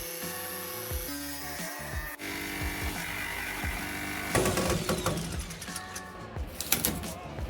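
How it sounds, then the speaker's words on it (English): Jigsaw cutting through two stacked metal sheets during a VW Crafter camper van window installation, a harsh rattling buzz that stops and restarts in bursts, growing louder and more ragged in the second half. "here we practice if I can cut through 2 metal sheets"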